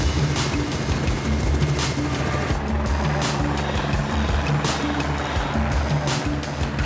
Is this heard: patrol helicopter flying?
yes